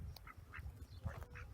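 Ducks at a farm duck pond kept alongside chickens, several soft, close quacks in quick succession over a brief, quiet moment.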